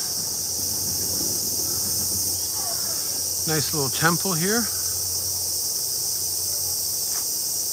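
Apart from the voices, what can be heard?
cicadas chirping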